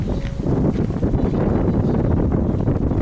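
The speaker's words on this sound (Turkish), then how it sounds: "Evet yine başlamıştır rüzgar." Strong wind buffets the microphone outdoors, a loud continuous roar with gusty surges throughout and no voice over it.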